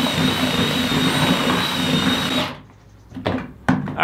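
A power drill mixes Sheetrock 45 joint compound with water in a bucket, a loud steady whirring churn for about two and a half seconds before cutting off, followed by a few short clunks.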